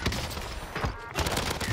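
Rapid gunfire in a first-person shooter video game, a dense, loud burst of overlapping shots that barely pauses before resuming.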